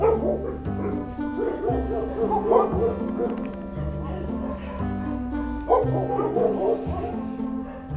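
Several dogs in the hospital kennels of an animal shelter bark and yip in repeated, overlapping bursts, fairly close and continuous, with a few whimpers mixed in.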